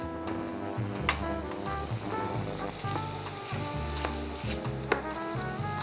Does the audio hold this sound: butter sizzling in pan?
yes